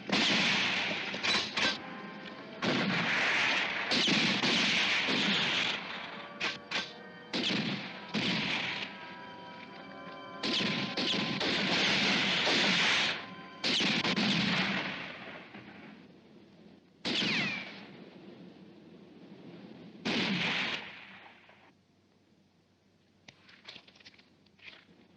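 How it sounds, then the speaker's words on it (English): Gunshots ring out in a western shootout, sharp bursts spaced irregularly over about twenty seconds, some close and loud, others thinner and farther off, with no talking. "Who in blazes be shooting out here?"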